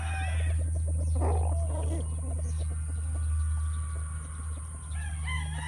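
A gamefowl rooster, a three-way cross out of a Boston Claret hen, clucks and calls at a farm among other fowl, moderately near, over a constant low hum and high-pitched buzz.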